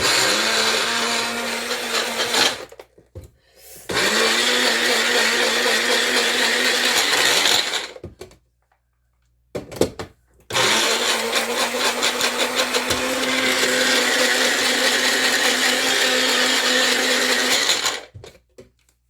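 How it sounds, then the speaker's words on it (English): A small personal blender blending basil pesto whirs loudly in several bursts, grinding steadily with brief pauses and rattling between runs. "we're going to put it through the magic bullet and spritz it. It's going to make a lot of noise here"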